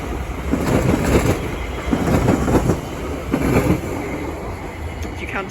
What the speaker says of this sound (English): The next train to pass by is going to be a TfL Rail Class 345 from Shenfield to London Liverpool Street